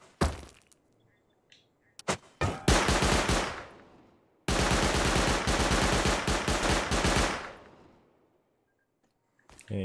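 Automatic turrets in Rust Console Edition fire two long, loud rapid bursts, each a dense stream of shots trailing off, with near silence between them and before and after.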